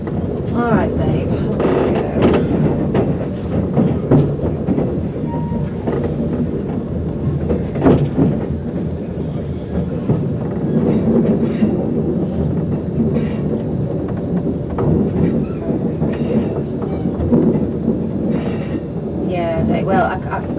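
Steady rumble and rhythmic clatter of a train running on rails, with people talking throughout over the constant noise.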